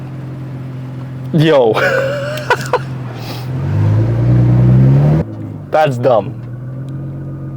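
A Nissan GTR R35 with a pops-and-bangs exhaust tune, giving loud close revs and a deep rumbling idle with sharp crackles, while people talk over parts of it.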